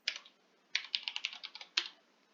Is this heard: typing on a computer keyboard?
yes